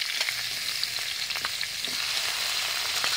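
Mushroom and pork stir-frying in a small pot for a Lao dish, a steady close sizzle with scraping stirs throughout and no talk.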